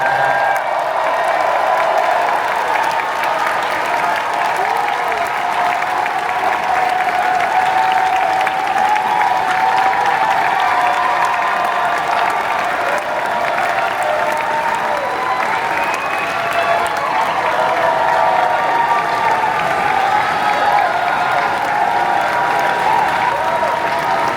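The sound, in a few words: audience applause at Comic-Con panel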